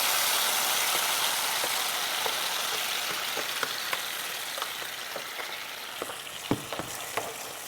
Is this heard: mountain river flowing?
no